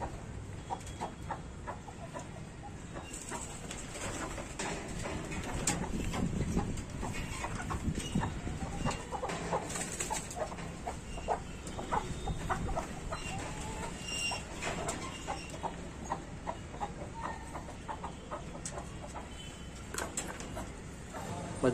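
Chickens cluck and scratch about while being fed rice and green leaves outdoors, soft intermittent clucks and pecking over a quiet background, with a few faint thuds and brief stirrings throughout.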